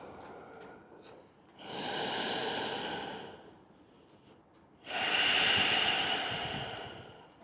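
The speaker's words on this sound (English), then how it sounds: "Nice deep breathing in and out." Deep breathing in and out during a yoga flow: two long, soft, airy breaths separated by quiet, close and alone with no talking.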